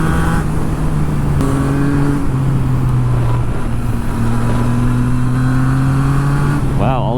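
Cars passing on a road heard from a motorcycle, a Yamaha XSR900 with an Akrapovic carbon exhaust, whose steady engine drone runs throughout while vehicle sounds swell past near the end.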